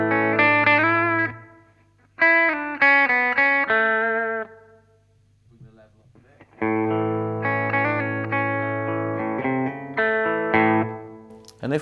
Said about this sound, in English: I'm going to just try the reverb to start with